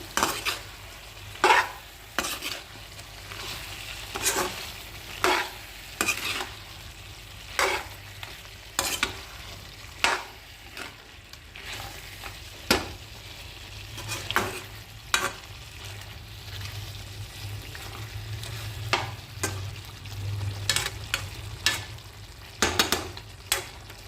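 Chicken curry pieces sizzle in a pan while being stirred, with regular scraping clinks of a utensil against the pan over a continuous frying hiss.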